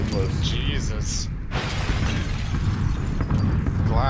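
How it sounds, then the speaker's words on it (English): Glass shattering in the PUBG battle royale game, a loud crash near the middle followed by scattering debris, with game ambience and a voice talking underneath throughout. "Glass was fucking loud."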